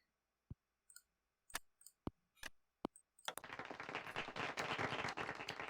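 In the video game Nancy Drew: Secret of the Old Clock, a few scattered single claps ring out sharply, then a burst of rapid, dense applause-like clapping takes over and continues steadily.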